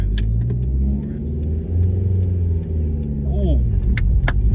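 A manual car's engine hums and rumbles steadily from inside the cabin as a learner driver releases the handbrake and adds revs, with small clicks and rattles over the engine drone.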